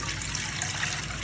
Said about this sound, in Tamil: இதே 4 டம்ளர் தண்ணியும் ஊற்றியாச்சு.